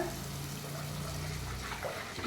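Dissolved tamarind water poured into a pan of sautéed ingredients for curry leaves kuzhambu, making a continuous close splashing, gushing flow for a couple of seconds.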